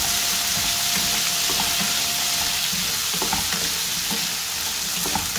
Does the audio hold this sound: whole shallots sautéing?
yes